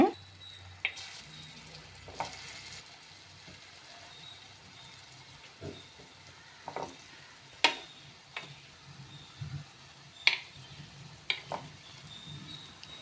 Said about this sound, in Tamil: எண்ணெய் காய் காயுது ஒவ்வொரு உருண்டையும் ஆட் பண்ணிக்கோங்க